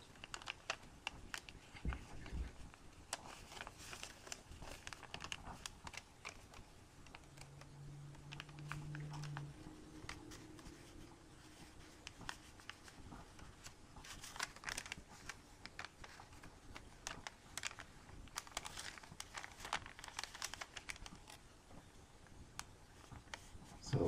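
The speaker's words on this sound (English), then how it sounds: "Rotate the paper and do the next edge." Paper creased and folded into an origami Kawasaki rose: quiet, irregular crinkles, taps and rustles of the edges being pressed, close and faint over a long stretch, with a brief low voice partway through.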